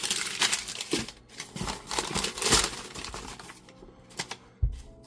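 Packing paper crumpling and rustling steadily up close while a Mythic Guardians trading card game battle box is unpacked, with a few sharper crinkles and taps toward the end.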